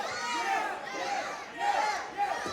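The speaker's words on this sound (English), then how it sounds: "See, like some mixed messages from the crowd. Some say yes, some say no." A crowd at a wrestling event shouts mixed reactions, with overlapping yells and jeers rising and falling in a few surges, fairly distant and without a single clear voice.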